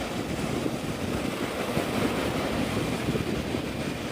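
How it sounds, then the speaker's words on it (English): Surf at Navarre Beach, Florida, a continuous rushing wash of waves mixed with wind buffeting the microphone, steady and fairly loud throughout. "This is Navarre Beach, Florida."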